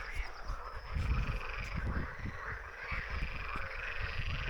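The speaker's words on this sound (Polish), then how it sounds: "Chyba żaby, nie? Rychoczą." Dense chorus of frogs croaking continuously in an overgrown pond, a rough pulsing drone with steady chirring overhead, fairly close and loud.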